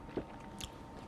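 Someone biting and chewing cantaloupe sprinkled with salt, a soft bite followed by quiet wet chewing, close but faint and brief.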